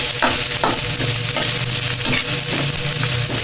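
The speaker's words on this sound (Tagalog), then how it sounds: "Pag mainit na, ilagay na natin ang luya." Ginger sautéing in hot cooking oil in a pan, a dense continuous sizzle with occasional stirring scrapes and clicks, close and fairly loud throughout.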